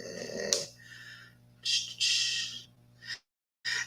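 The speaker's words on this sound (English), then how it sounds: "My phone just went off" A phone text notification alert sounds in a few short bright tonal chimes, close and clear, with a pause of silence between the last two.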